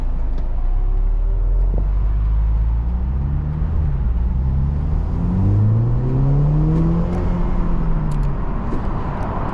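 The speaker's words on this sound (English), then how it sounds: "Quick little pickup for the 4-cylinder." Heard from inside, a 2023 BMW Z4 30i with a four-cylinder engine accelerates with windows up, its engine note climbing steadily over a constant road rumble.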